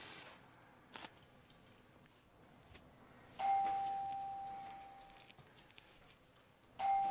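A doorbell rings twice in a quiet house, each ring a bright, sustained electronic tone that slowly fades, the second cut short, with only a faint room hush and a soft knock before them.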